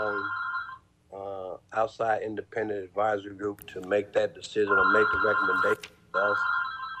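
Mobile phone ringtone chiming loudly and repeatedly during an online meeting, a steady melodic ring that keeps sounding while someone talks over it.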